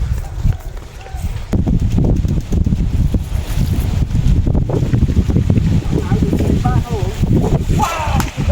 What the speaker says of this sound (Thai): ลมพัดมาเย็นๆครับผม